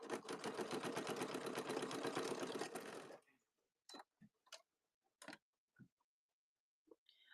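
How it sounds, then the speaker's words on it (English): A sewing machine stitches fabric for a bowl cozy in a fast, rhythmic, close run lasting about three seconds, then stops, followed by a handful of scattered soft clicks and handling taps. "Now we're just going to sew directly down that line."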